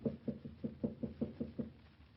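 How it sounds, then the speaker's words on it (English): Knuckles rap on a wooden door as a radio drama sound effect, about nine evenly spaced knocks in a steady rhythm, fairly close and dull, with no voices over them. "I shall knock."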